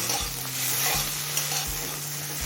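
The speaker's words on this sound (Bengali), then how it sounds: "চিংড়ি মাছের মাথা দিয়ে মিনিট পাঁচ ভেজে নিলাম" Prawn heads fry in a pan for a taro-leaf mash, giving a constant close sizzle broken by a few stirring scrapes.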